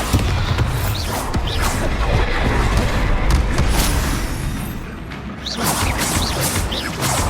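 Bombarda explosion spells in the Hogwarts Legacy video game, heard as loud, dense booms and crashes with whooshing bursts running continuously over a busy combat soundscape.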